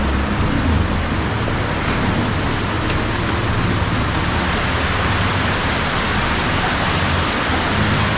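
Steady rain falls across a public market in Claveria, Misamis Oriental, a loud, even broadband hiss that fills the whole stretch without pause, with no clear voices.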